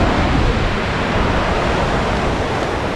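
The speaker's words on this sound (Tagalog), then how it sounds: "Kasi lumalakas na naman tong hangin." Strong typhoon wind roars as a steady, loud broadband rush with a low rumble, continuous and unbroken for the whole stretch, with no voices.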